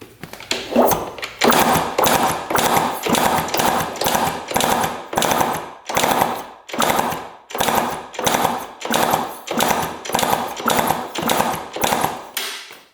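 A rusty $600 dirt bike with a suspect rod bearing is kicked over fast again and again, giving a dense, loud rattling clatter in about a dozen rhythmic bursts with short gaps, close up and alone.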